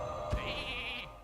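A single sheep bleat from the video game Hearthstone, a short nasal wavering cry just over half a second long, heard clearly with nothing else over it.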